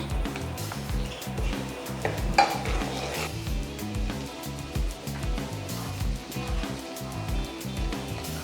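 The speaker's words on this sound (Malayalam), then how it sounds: "അതിനകത്തോട് കൂടെ ഈ വെളുത്തുള്ളി ഇട്ട് കൊടുക്കുകയാണ്" Garlic sizzles and fries in hot oil in a pan while a utensil stirs and scrapes steadily against the metal, close and continuous with rhythmic clinks.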